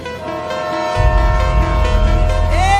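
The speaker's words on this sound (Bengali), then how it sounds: "ট্রেন আসি, সরে যাও।" A train approaches a village with a sustained, loud horn blaring in steady tones over a growing low rumble of wheels and engine. The horn rises in pitch near the end, with no voices.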